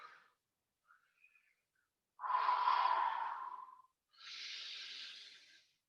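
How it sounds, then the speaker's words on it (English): A long, deep yoga breath drawn in and let out, heard close and loud as two drawn-out airy rushes with a short pause between them, with no talking. "The next breath in is rippling the body up."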